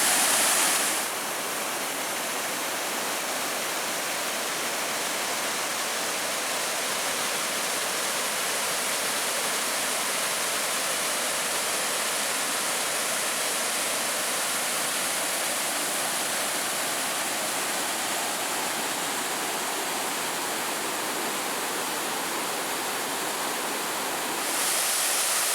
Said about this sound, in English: This will be another one of the waterfalls.